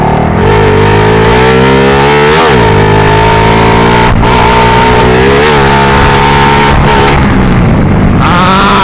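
A Honda Wave 110 LED motorcycle revving hard during a wheelie attempt, loud and close, with the engine note climbing and dipping in repeated surges and brief drops between throttle bursts.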